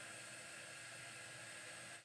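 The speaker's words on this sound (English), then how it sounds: "Okay, so I'm just hitting this with the dryer." Hair dryer blowing on a vintage keepsake craft ornament, a steady soft whooshing hiss that runs evenly and then cuts off abruptly at the end.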